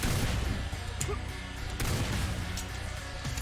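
A gun in the first-person shooter game Dread Templars fires in dense, booming bursts, with sharp cracks standing out of a loud, continuous barrage of action noise.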